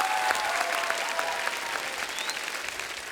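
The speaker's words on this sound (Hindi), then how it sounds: "तालियां होनी चाहिए" A studio audience on a Hindi comedy show breaks into loud, dense applause that tapers slightly toward the end, with no voices over it.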